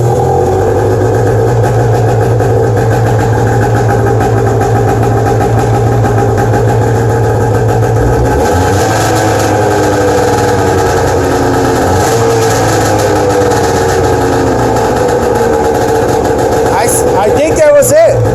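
A 1997 Arctic Cat EXT 580 EFI snowmobile engine runs close by, idling with a slightly boggy tone. Its pitch shifts midway as the revs rise and fall unevenly, and it stays loud and continuous throughout.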